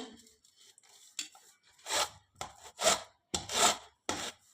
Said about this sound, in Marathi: अशा पद्धतीने आपल्याला या किसणीने ही कैरी किसून घ्यायची आहे